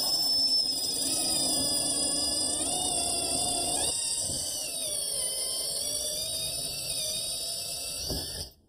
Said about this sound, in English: I'm going to drill a series of holes using a ceramic drill bit right along our template line